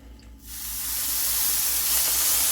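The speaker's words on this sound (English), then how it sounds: "You can get a little steam action going." Water hits a hot griddle cooking pizza bagels and bursts into a loud, sustained steam hiss that swells and holds for about two seconds, close and with no talk.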